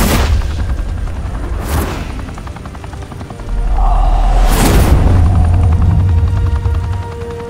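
Gunfire in the Batman Telltale Series game: sharp bursts of shots crack out in two clusters over a rumbling, helicopter-like drone that swells louder midway.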